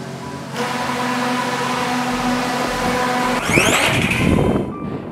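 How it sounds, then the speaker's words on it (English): A Zipline fixed-wing delivery drone, about 20 kilograms with a 3-metre wingspan, spins up its motors with a steady tonal hum before a sudden rushing launch surge. No voices are heard. "Copy, spinning motors and launching Zipline 138."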